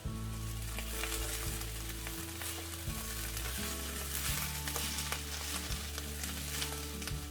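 Cabbage filling for baked pies, with tomato paste and dill, sizzles steadily in a hot pan while being stirred, a continuous close frying hiss with occasional scraping strokes and no talk.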